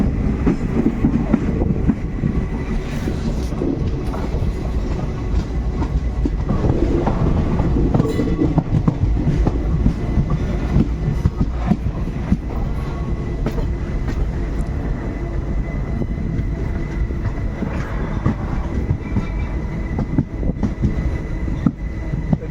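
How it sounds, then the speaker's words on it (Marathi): Train easing its speed through a ghat section of the Konkan railway: a continuous loud rumble with clickety-clack of wheels over rail joints, heard close and alone for the whole stretch. "ठिकाणी घाट असावा म्हणून गाडीने वेग कमी केलेला आहे"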